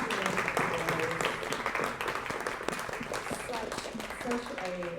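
A crowd at a talk on commercial law claps continuously in a busy, mid-loud round of applause, with voices mingling through it.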